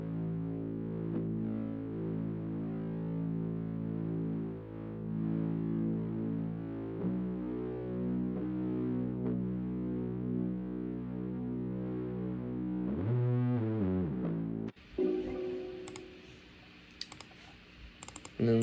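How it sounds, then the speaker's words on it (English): Vintage-style bass sample for a trap beat, processed with distortion and a stereo spreader: sustained, gritty low tones that shift pitch a few times, breaking into a choppy, clicky texture near the end. "Added some distortion to it and a spreader as well on this one."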